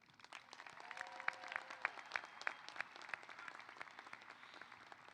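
Graduates at a CSUN business college commencement applaud and cheer for faculty and staff, a broad wave of crowd clapping with sharp, distinct claps and a few whistles on top, building up and then holding steady.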